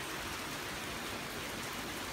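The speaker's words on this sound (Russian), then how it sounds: "Бусь, да это дождь. Просто дождь." Steady rain falls outside on a balcony, a dense continuous hiss of drops with no breaks, fairly loud and alone with no voices.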